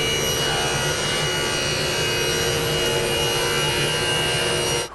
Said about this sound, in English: I'm just going to do that here at the table saw.